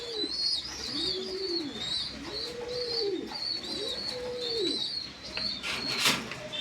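Fancy pigeons at a breeding farm coo in a steady repeating rhythm, several soft rounded calls close by, with faint higher chirps from other birds behind them.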